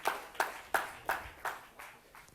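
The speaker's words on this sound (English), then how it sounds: "Yeah, please give him a round of applause." Applause for a speaker at a risk management conference, about seven evenly spaced sharp claps in a slow rhythm, faint and fading, like a single person or small group clapping in a quiet hall.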